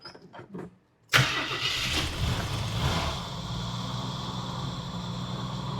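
A 1982 Jeep CJ-7 engine cranks briefly, fires abruptly and settles into a steady rumbling idle, close and clear after a few faint clicks.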